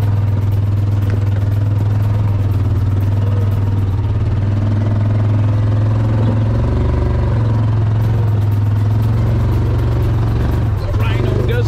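Yamaha Rhino side-by-side engine running steadily, a loud continuous low drone with a clattery edge throughout, some rattling and bumps near the end.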